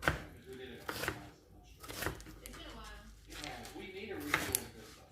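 Meatloaf ingredients being chopped small on a cutting board, a knife striking in several separate bursts of sharp close thuds, with someone talking between and over the cuts.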